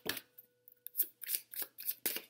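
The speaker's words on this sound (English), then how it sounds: "These cards are so smooth and slippery. It's so nice shuffling them." Smooth, slippery oracle cards being shuffled in quick crisp bursts of riffling and flicking, with short pauses between, close up and fairly quiet.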